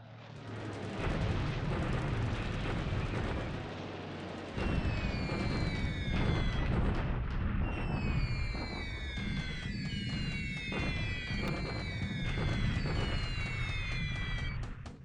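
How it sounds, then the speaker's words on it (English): Anti-aircraft flak fires during a 1942 Pacific air raid in the War in the Pacific strategy game, a continuous barrage of booming bursts and explosions with whistling, descending tones layered over the din, loud and unbroken. "I do have flak here, but it's not doing much."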